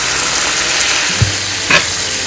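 Kerala-style chicken roast gravy sizzles steadily in a hot pan as it is stirred, with a couple of short spoon scrapes against the metal.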